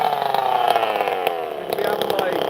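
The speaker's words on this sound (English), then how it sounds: "the chainsaw has no muffler." An unmuffled chainsaw running at a workbench in the jungle, a loud harsh continuous engine snarl with rising and falling revs throughout, close by, with faint voices under it.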